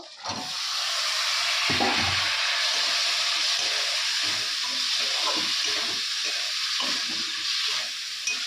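Vegetables hitting hot spices in a home kitchen pan, setting off a steady loud sizzle and hiss of frying that carries on unbroken, with light clatter of stirring underneath.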